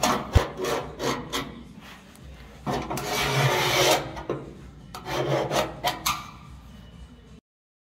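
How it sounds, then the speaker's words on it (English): Sheet metal being cut with repeated rasping strokes, close and uneven, with short pauses between bursts. "I mark and cut the sheet metal."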